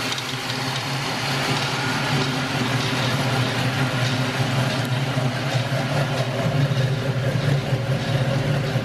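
An LS V8 swapped into a Camaro idles close by with a low, even burble that holds steady throughout, with no voices over it.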